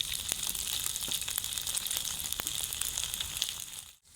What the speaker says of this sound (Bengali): আমি আর একটুক্ষণ ভেজে নেব এপিট ওপিট একটু লাল করে ভেজে নেব